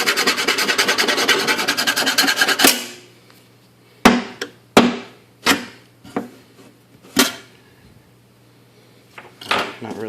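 TrafficMaster Glenwood Oak laminate flooring scratched as a test: a few seconds of rapid, loud rasping scrapes close up, then a series of sharp separate scratch strokes and knocks with brief pauses between.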